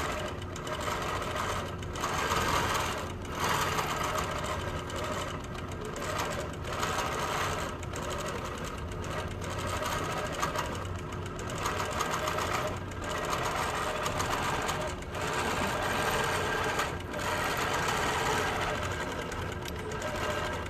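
A longarm quilting machine does free motion quilting on a quilt on its frame, a continuous close mechanical hum and rapid stitching chatter lasting throughout with slight speed changes.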